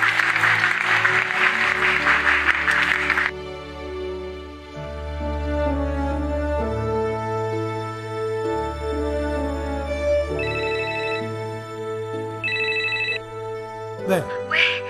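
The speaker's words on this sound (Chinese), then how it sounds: "现场观众的掌声已经告诉你" A studio audience at a televised contest bursts into loud, dense applause for about three seconds, then gives way to music and a ringing phone tone.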